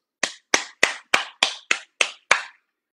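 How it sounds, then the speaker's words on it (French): Eight sharp, close hand claps come at an even, moderate pace, each crisp with a short decay and silence between. "Des applaudissements pour Caribou, s'il vous plaît,"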